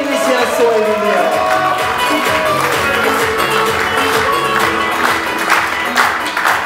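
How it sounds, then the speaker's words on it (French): Cabaret audience at a holiday resort in Mont Dore applauding and cheering for their sound and lighting technician, loud sustained clapping with whoops, while a voice talks over the crowd. "Un tonnerre d'applaudissements pour Joshua, s'il vous plaît, notre technicien son et lumière."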